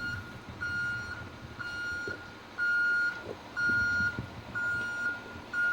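A backing vehicle at a tree care work site sounds its reversing alarm, a steady series of loud, evenly spaced high beeps about once per second over a low engine rumble.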